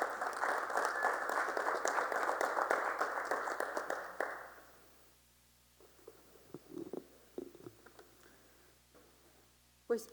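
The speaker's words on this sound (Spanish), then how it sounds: "Fuerte aplauso para la senadora Carabeo" Audience applause for a senator at a book presentation on migration, a dense burst of clapping from a room of people that holds steady for about four seconds, then stops abruptly, leaving a quiet room with scattered small noises.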